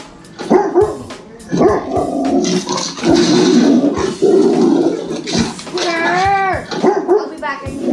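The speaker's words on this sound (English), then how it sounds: "Angry Rottweiler barking and growling." Angry Rottweiler barking and growling as a sound effect, loud and close, with bursts of deep barks, a sustained snarl and some higher yelping tones; the dog sounds may be mixed with other voices.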